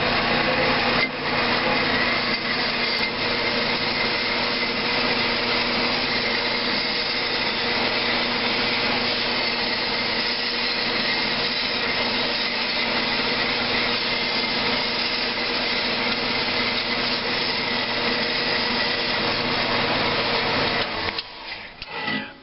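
A saw blade cuts steadily through a graphite anode, a loud continuous grinding whine that holds an even level for about twenty seconds before breaking off at the end.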